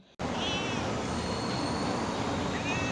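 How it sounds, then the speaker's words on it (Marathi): A roadside cat gives two thin, high meows, one early and one near the end, over a loud, steady wash of traffic-like noise. "कधी रोड साईडला कॅट दिसली ना तर त्यांना लाड केल्याशिवाय मला अजिबात राहत नाही"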